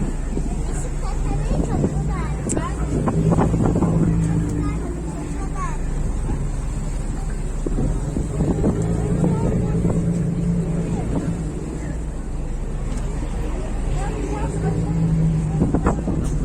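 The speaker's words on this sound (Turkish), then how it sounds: "Vapur turumuz bitti Ömer'le." Steady low ferry engine rumble with broad wind noise throughout on an Istanbul ferry arriving at Beşiktaş, occasional voices and someone speaking faintly over the droning motor.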